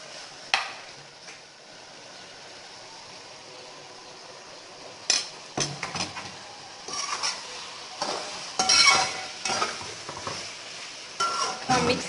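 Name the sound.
okra added to fried onions in a pan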